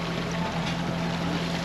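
The engine of a sailboat runs at sea during a crossing from Melilla to Malaga, holding a steady low drone at about 1100 rpm, with wind and water noise around it.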